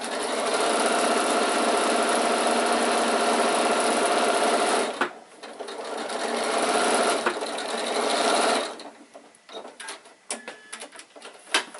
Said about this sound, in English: needle down, turn it, and then sew right the way to the top